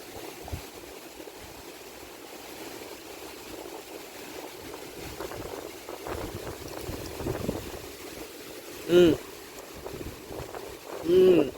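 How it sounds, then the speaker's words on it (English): Wind rushes steadily across the microphone, with low buffeting gusts and a couple of brief thumps near the end. "It's so windy."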